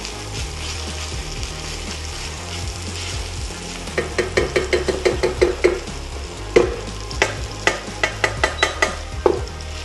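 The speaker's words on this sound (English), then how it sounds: "already you can hear you can know it's sizzling" Minced pork sizzles steadily in a hot pan while a utensil stirs and scrapes, giving a series of sharp clacks against the metal toward the end.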